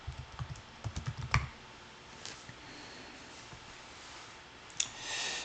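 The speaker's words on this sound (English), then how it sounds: "so we're going to type it in here" A computer keyboard is typed on in a short burst of quick clicks near the start, followed by quiet room tone and a soft rustle near the end.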